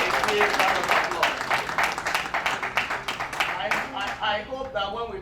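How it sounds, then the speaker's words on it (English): Conference audience clapping at a Dallas welcome session, a moderately loud burst of applause in the first seconds that tapers as a voice starts talking over it. "Let's give them a big round of applause."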